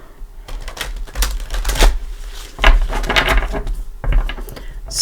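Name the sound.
shuffling tarot cards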